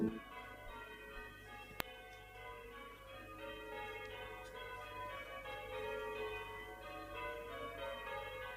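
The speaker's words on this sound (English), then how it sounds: "The church bells have started ringing." Church bells toll around eleven o'clock, a sustained, layered ringing that stays faint and distant throughout, with one sharp click partway through.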